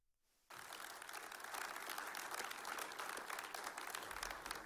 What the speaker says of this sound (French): Tonnerre d'applaudissements pour saluer la bravoure des soldats au front contre le terrorisme